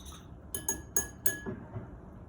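A small whisk clinks against a bowl while wet ingredients for a Dawadawa chocolate cake are beaten together: about half a dozen light, close metallic taps at an uneven rhythm over a quiet kitchen background.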